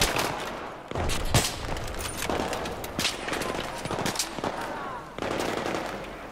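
Rapid automatic gunfire crackles in Battlefield 3, with repeated bursts of sharp shots and heavy impacts packed closely across the whole stretch, loud and chaotic.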